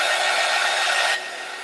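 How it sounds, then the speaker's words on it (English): A heat gun blows steadily on fresh paint on a mixed media tile sign, a loud continuous airy roar that drops to a lower, softer hum near the end. "And then we'll hit this with the heat gun, so you ladies don't have to sit around and watch paint dry."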